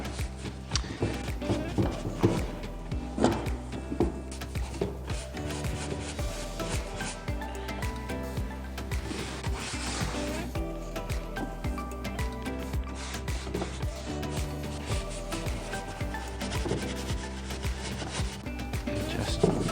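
Wax being rubbed by hand over chalk-painted furniture to blend white paint, a continuous close scrubbing and rasping friction against wood, with occasional taps and a steady low hum underneath.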